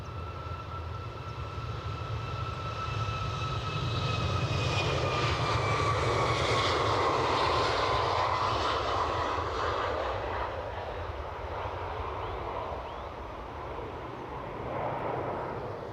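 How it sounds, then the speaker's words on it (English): KLM airliner taxiing at Edinburgh Airport, a loud steady jet whine with a slowly falling high tone over low engine roar, swelling and then easing as it passes at moderate distance, with no talking. "So look at this, rapid taxiing KLM."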